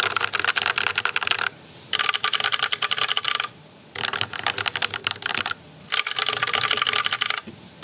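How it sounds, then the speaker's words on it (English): Fast clicky typing on an ABM 084 mechanical keyboard with pour-on foam comes in four bursts of about two seconds each, separated by short pauses, close and clear. "Now let's have a listen to them both together."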